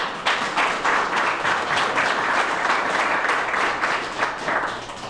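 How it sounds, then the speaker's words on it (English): A large audience at a public history forum applauds steadily, a thick wash of many hands clapping that holds for several seconds and eases slightly toward the end. "So I think he needs a round of applause."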